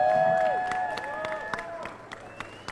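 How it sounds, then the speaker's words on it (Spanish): An audience applauds a jury member being introduced at a science hackathon final: scattered hand claps ring out over a steady tonal background and gradually thin out. "Denle un fuerte aplauso a mi paisano de UST Global"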